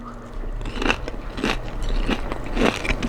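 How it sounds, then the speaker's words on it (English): Tater tot dipped in pickle-flavored ketchup bitten up close: a few crisp, crackly crunches followed by moist chewing, loud and intimate, with no speech. "So I made a few little tater tots. We're gonna try it out and see how I like it."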